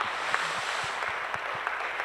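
Church congregation applauding a choir ensemble and instrumental musicians after a special autumn music worship service, a steady wash of clapping with scattered sharper claps, no voices over it.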